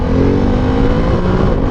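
A Ducati Desert X adventure motorcycle, a 110-horsepower machine, accelerates with a steady, loud engine drone held close for under two seconds, without any voices.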